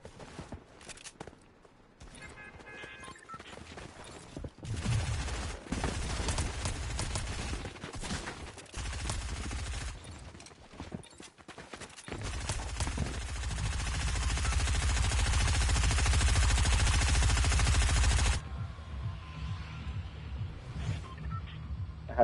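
Fortnite gunfire arrives as bursts of rapid automatic shooting, then builds into a long, loud sustained volley that cuts off abruptly near the end, with game footsteps and mechanical noises in between.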